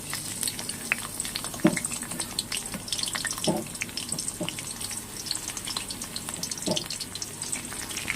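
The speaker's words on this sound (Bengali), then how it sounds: "রসুনটাকে খুব বেশি ভাজবো না, হালকা করে ভাজবো" Chopped garlic frying gently in oil for chilli garlic pasta, a soft steady sizzle with a few faint utensil taps, close and alone without talk.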